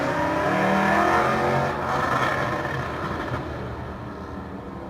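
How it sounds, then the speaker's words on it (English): Police cars drag racing on a street in Red Hook West, with a loud engine roaring and revving nearby, then easing slightly as it carries on steadily, without voices. "This is police drag racing in Red Hook West."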